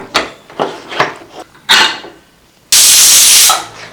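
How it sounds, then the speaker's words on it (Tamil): Several short puffs of hissing steam, then a loud, sustained high-pitched hiss as a pressure cooker vents, close by with no voices. "இப்போ மூணு விசில் வந்துருச்சுங்க"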